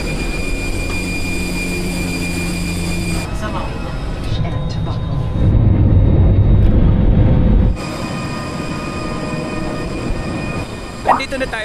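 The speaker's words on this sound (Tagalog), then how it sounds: "Sakay na tayo ng eroplano." Loud, continuous cabin noise from a Cebu Pacific passenger flight to Dipolog, with engine roar and rumble shifting in sections, a brief sharp squeal near the end, and people talking at times.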